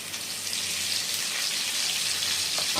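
Potatoes frying in hot oil with turmeric and salt give off a steady, close, dense sizzle that holds evenly throughout with no talking.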